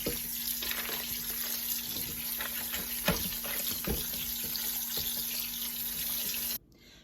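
Cold water runs steadily from a tap into a bath for pickling vegetables, a constant loud rushing splash with a faint hum beneath that stops abruptly near the end.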